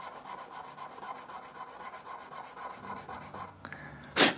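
A 3 mm steel engraving chisel sharpened by hand on a stone, held at about 15 to 20 degrees: a steady series of close, rhythmic scraping strokes, ending with a brief louder clack.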